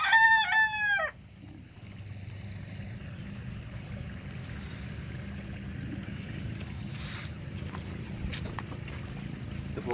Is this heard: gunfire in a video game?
no